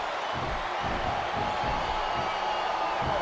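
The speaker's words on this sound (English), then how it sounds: "Sounds like this crowd's got something on their minds, King." Dense, distant video game wrestling crowd roar from a 30-man Royal Rumble match in WWE SmackDown! vs. RAW 2007, with rising swells of cheering, continuous and fairly loud throughout.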